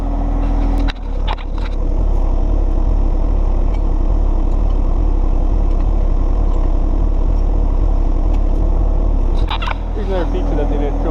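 A small tractor being fitted for a snowblower attachment idles close by with a steady, loud low rumble, and a few brief metallic clanks come near the start and the end.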